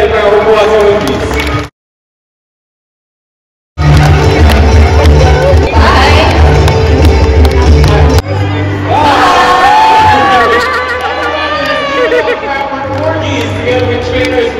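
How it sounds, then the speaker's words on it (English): An audience at a bird show in a theater at Dubai Safari Park claps and cheers loudly, with a crowd roar and whoops, briefly cut to silence before the cheering resumes, under background music. "put your hands together for our applause for the piece"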